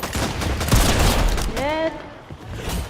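Rapid, dense gunfire in a battle royale video game fills the first half, then thins out as a brief tonal, voice-like sound rises over the continuing noise.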